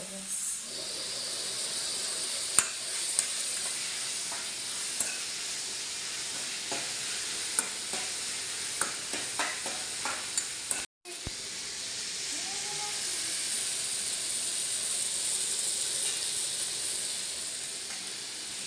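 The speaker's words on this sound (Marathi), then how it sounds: "अद्रक लसूणचा पेस्ट टाकलाय" Ginger-garlic paste sizzles steadily in hot oil in a pan, a continuous close hiss broken by light scrapes and taps of stirring.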